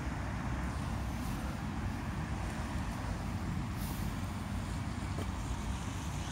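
Steady road traffic at North Broomage Roundabout in Larbert, Falkirk, Scotland, a dense continuous roar of passing vehicles with a heavy truck rumbling by, heard fairly far off and without talk.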